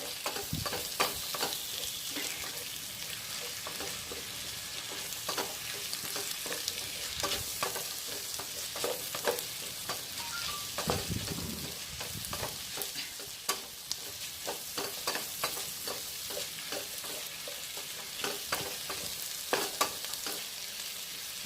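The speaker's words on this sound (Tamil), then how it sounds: "நல்ல வெங்காயம் லைட்டாக வதங்கி வரணும்" Onions sautéing in a pan for fish biryani, a low continuous sizzle with frequent light clicks and scrapes of a spoon stirring, steady and close throughout, no voices.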